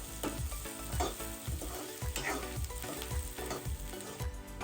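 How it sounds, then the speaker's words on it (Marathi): Onions and curry leaves fry in oil in a pan with a steady sizzle, punctuated by regular rhythmic scraping strokes about twice a second, close and unaccompanied by speech. "आता मी याला हलका गोल्डन फ्राय करून घेणार आहे, जास्त नाही करणार आहे, हलका।"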